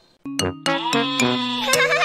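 Repeated sheep-like bleats ring out in close succession, clear and tonal, over a sustained musical backing.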